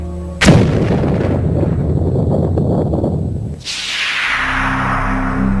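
A sudden, sharp booming blast erupts in a remote area of Siberia, followed by a long rumbling roar that fades, then a hissing rush of debris or wind.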